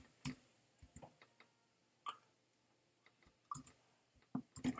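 Typing on a computer keyboard while coding a to-do list app, with quiet, sparse, irregular key clicks in small bursts against near silence.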